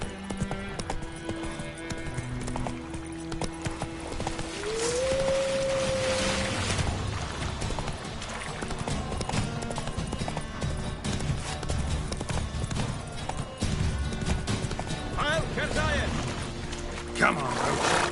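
Roach the horse gallops in The Witcher 3, with rhythmic clip-clop hoofbeats running throughout, a brief whinny early on, and a voice talking over the steady hooves.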